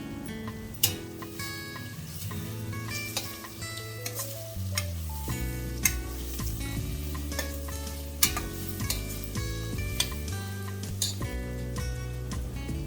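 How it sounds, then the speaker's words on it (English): Onions sizzle steadily in hot oil while frying until translucent, with occasional clinks of stirring, while tonal background music plays throughout. "Frying these onions until they turn to translucent."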